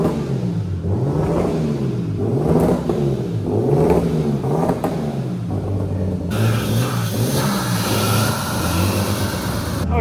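A BMW E36 fitted with an eBay turbo kit, running poorly, revs repeatedly in a rising and falling rhythm, loud and close, then settles into a rough idle with a hiss behind it.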